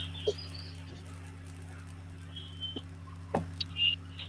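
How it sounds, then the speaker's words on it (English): Small bird chirps now and then in the background, faint and brief, over a steady low electrical hum indoors with no talking. "You hear a birdie's chirping in the background there."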